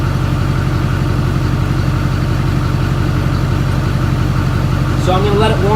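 A gas pickup truck engine idles steadily at close range, a constant low rumble with a fuel pump whirring underneath, and a voice talks over it toward the end.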